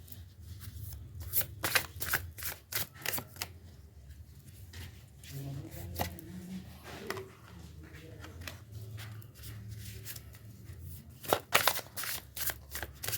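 Oracle cards shuffle in repeated crisp riffles and taps, close and clear, with someone talking between and over the shuffling at times.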